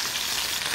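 Beef sizzles and spits steadily in a hot pan, a close, even hiss of frying with no voices over it.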